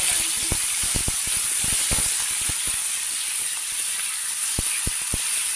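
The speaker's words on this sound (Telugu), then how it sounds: "టమాటా పేస్ట్, పుదీనా టమాటా కలిపి వేయించుకున్న పేస్ట్ పచ్చివాసన పోయేదాకా వేయించుకోవాలి." A tomato and mint paste fries in a pan with a steady bright hiss and sizzle, broken by a run of sharp ticks and taps of a spoon against the pan.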